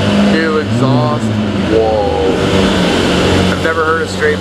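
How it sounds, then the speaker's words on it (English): A Ferrari 488 Pista fitted with a new straight-pipe exhaust revs up close at a cars-and-coffee meet, giving loud, rising and falling engine blips in quick succession. People talk over it. "So we got this Pista, new exhaust."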